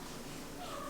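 A cat gives a short, faint meow late in a one-second moment, thin and high against a soft indoor background with a hint of nearby voice.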